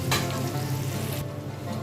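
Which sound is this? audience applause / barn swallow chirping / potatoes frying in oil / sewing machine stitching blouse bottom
potatoes frying in oil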